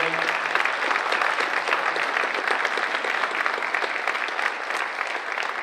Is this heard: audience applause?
yes